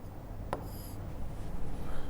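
Pen or marker writing on a board while sketching the chemical structure of cycloguanil: soft continuous scratching strokes with one sharp tap near the start, close up over steady room noise.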